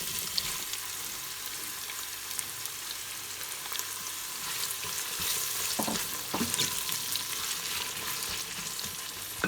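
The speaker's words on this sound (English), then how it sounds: "And I'm just gonna let it saute." Sliced onions sautéing in an Instant Pot for chicken biryani, a dense steady sizzle up close with occasional scrapes of a utensil against the pot, no speech.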